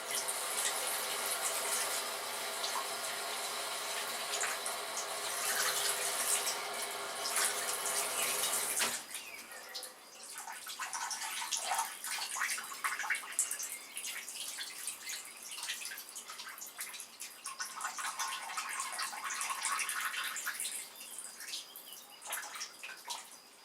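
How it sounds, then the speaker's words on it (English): Water pours steadily from a tap or container into an orchid pot grown in semi-hydroponic medium, a continuous close rushing stream that shifts pitch as the pot fills, then turns to uneven trickling and dripping. "I will water the orchid now."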